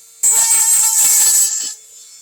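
A drill bit spins through a bamboo arrow shaft in one close, high, whining burst of about a second and a half, then cuts off to near silence.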